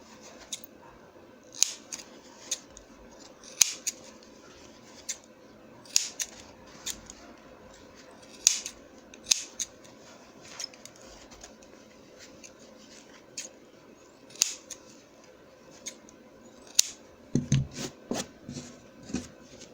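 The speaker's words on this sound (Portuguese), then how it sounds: "O que que nós vamos fazer? Cortar as pontinhas." Scissors snip the corners of a fabric hat, a child's double-sided sewing project, in a series of short, crisp cuts spaced irregularly, with a denser cluster of snips near the end, close and fairly quiet with no talking.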